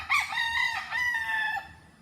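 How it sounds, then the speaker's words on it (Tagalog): A fighting rooster in Guinobatan, Bicol, crows once close by, a loud, drawn-out cock-a-doodle-doo lasting about a second and a half, alone and clear. "Ano tawag sa manok na to?"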